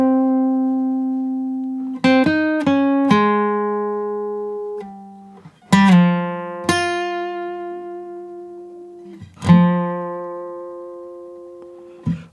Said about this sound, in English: My guitar is in standard tuning. The first line sounds like this.